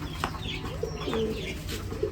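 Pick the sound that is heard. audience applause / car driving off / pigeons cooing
pigeons cooing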